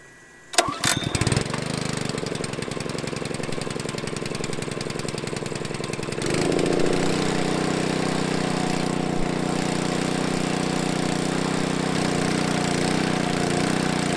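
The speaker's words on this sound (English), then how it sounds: "let's go ahead and get this pump started" A farm injector pump's engine cranks briefly, catches and settles into a steady, loud running drone with a dense mechanical chatter, close by and without voices.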